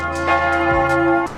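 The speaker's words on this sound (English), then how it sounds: "I think the bells are ringing because it's lunchtime" A large church bell rings at lunchtime in Budapest with a long, sustained humming tone and layered overtones, a second strike blending in, loud and close.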